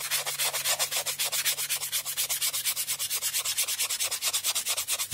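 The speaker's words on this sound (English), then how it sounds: "we're just going to support it underneath and just very gently sand" Depron modelling foam on a model wing's leading edge being gently sanded by hand, a steady rhythmic back-and-forth rasp of even strokes, close and fairly quiet, with no talking.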